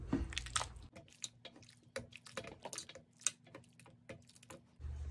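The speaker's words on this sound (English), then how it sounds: "The potatoes and carrots are cooked all the way. So I'm just going to mash these up a little bit." Soft squishy, tapping mashing of cooked potatoes and carrots in a crockpot for a vegan meal, a quick irregular run of small wet thuds and clicks up close with no talk.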